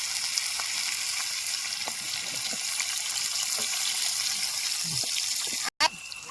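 Oil sizzles steadily in a pan while chickpea curry is being started, a constant close frying hiss with faint clinks and a brief dropout near the end.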